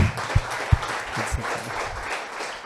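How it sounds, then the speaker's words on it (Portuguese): Scattered clapping from a church congregation during an evening family seminar service, with a few sharp louder claps early on, then thinning to a soft, steady patter with no voices. "Dê um aplauso ao Senhor Jesus"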